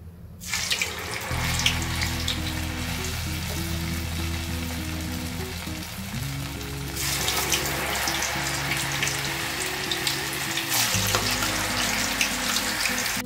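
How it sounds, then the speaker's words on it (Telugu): Cauliflower pieces deep frying in hot oil give a loud, continuous bubbling sizzle, close and steady, with surges as more pieces go in and a low hum underneath. "ఇప్పుడు వీటిని మనం డీప్ ఫ్రై చేసుకుందాం."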